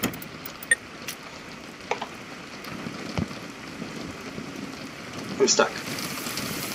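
Steady rainfall in the video game Generation Zero, a soft even hiss with scattered drops and small clicks, as someone speaks briefly over it.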